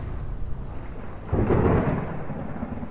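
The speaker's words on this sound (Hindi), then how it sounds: "सिर्फ बारिश की आवाज आ रही है।" Rain falls steadily outside a hut in an animated story while a low rumble of thunder swells midway and slowly fades under the constant patter. No one speaks.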